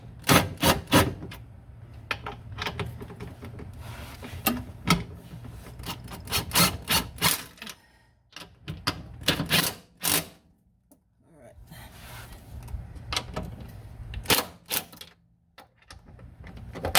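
A ratchet tightening bolts while installing a junkyard RSX 19mm sway bar on a 2003 Honda Civic: bursts of rapid clicking with pauses between runs, close and fairly loud, with brief quiet gaps.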